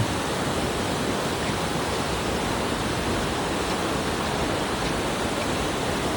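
Mother Falls, a waterfall in Aurora, Philippines, roars loudly and steadily with dense, unbroken rushing water that fills the whole scene without pause; no voices.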